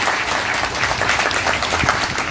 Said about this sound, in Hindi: ताली बजाइए एक बार इनके लिए।